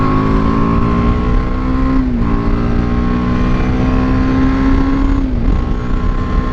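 A BMW G310 R motorcycle engine held at high revs, a loud steady buzzing drone that dips briefly twice as the throttle shifts, heard close with no speech.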